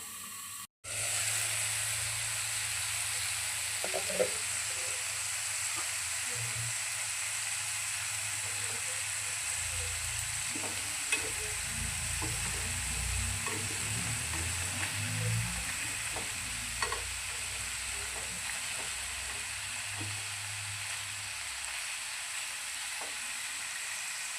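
Chicken seekh kababs frying under a lid in a pan, a steady close hiss and sizzle after a brief knock at the start, with faint intermittent popping and crackle throughout and no talk.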